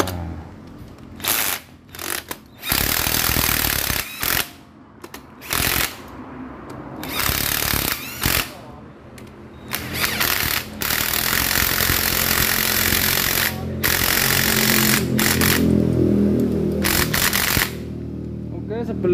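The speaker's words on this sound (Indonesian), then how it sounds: "sekarang kita kencengi dulu bagian baut 4 ini" A power tool bursts on and off in short loud runs while tightening bolts on a motorcycle engine, then runs longer, with people talking between the bursts.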